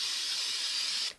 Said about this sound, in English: I'm just going to give this a quick spray.